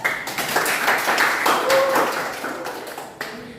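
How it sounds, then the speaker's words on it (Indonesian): Classroom applause for the five fastest students, a burst of many hands clapping together that fades out after a few seconds, with a voice briefly heard. "Berikan aplaus."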